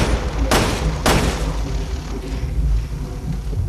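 Two sharp, loud gunshot blasts ring out close together early on from Resident Evil Revelations 2, followed by a lower rumbling game backdrop.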